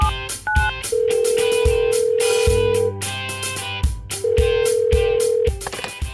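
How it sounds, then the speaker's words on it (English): Phone keypad tones beep in a quick sequence, then a steady dial and ringing tone holds in long electronic bursts as a call to a friend connects, loud and close with no talk. "Get Ben on the phone right now. Okay, let's call him."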